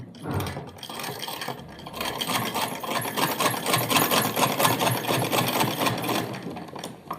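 A sewing machine stitches a ladies' trouser in a steady, fast mechanical chatter that runs almost continuously, close and clear after a brief start, with no talking.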